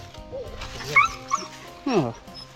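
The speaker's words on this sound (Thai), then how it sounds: "เห่าเลยครับ" A dog gives short yips and whimpering barks outdoors near water, mixed with people talking around it, with a louder yelping burst near the end.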